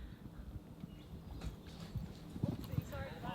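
A horse named Gabbana clip-clops through a show-jumping course, its hoofbeats thudding in an irregular rhythm at moderate distance, with muffled voices and other faint background noise around them.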